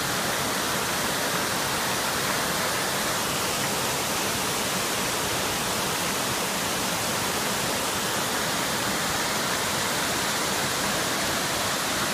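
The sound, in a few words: roadside waterfall on the Hana Highway, Maui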